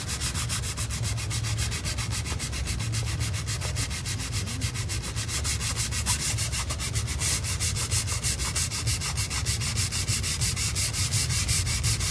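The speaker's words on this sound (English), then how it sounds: "I might take a 400 paper, which is a lot smoother and slicker, so I don't penetrate too much color into the woodwork" Fine 400-grit sandpaper rubbed over a wood floor during a spot repair, a steady rapid rasping scrape that runs loud and close throughout with no voices.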